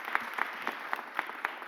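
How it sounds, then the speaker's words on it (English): Applause at a mayor's press conference honoring the budget and finance directors: fairly faint, evenly paced clapping with distinct individual claps at a steady rhythm, suggesting a small audience, with no speech. "Please give them a super huge round of applause again."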